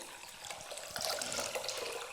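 Water pours steadily into a pot of long-grain rice in a continuous splashing stream, close by, with a slight rise in intensity midway and no talking.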